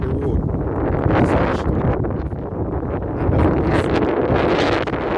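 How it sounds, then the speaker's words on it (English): Strong wind buffets the microphone outdoors in a seaside town, a loud, continuous roar with gusty surges throughout, while someone speaks briefly underneath. "It's very windy"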